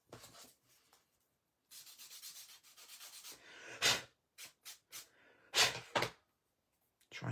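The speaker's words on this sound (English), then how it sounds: "And you need to just sand away what's there." Sandpaper rubbing across a pencil-shaded drawing to lift away graphite, heard as close, quiet scratchy strokes in bursts with short pauses and a few sharper swipes, no voices.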